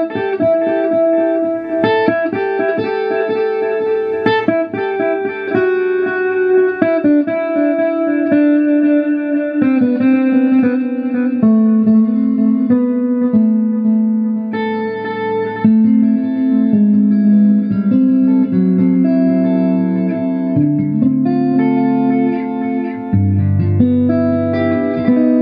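A replica of the Roland Space Echo RE-201 tape echo unit processes a continuous melodic tone, with repeating echoes and reverberant tails from its magnetic playback heads, loud and sustained throughout.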